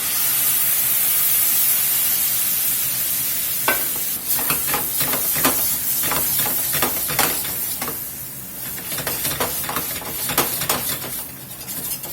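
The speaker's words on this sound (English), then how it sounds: "Let that sizzle a minute." A steady loud sizzle of Marsala cooking wine hitting a hot pan, with repeated scraping stirs breaking through the hiss.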